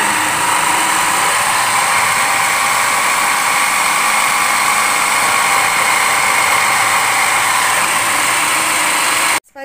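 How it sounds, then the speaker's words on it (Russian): An electric mixer whips cheesecake filling for a cottage cheese and strawberry pie, giving a steady, loud motor whir that runs without a break for almost ten seconds and cuts off at the very end. "Так, друзья мои, продолжаем взбивать начинку."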